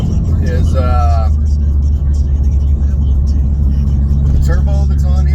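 A Mitsubishi Evo X with a turbo setup cruises along, its engine and road noise forming a steady, loud low rumble underneath a voice talking from inside the car.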